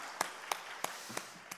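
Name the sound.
congregation applause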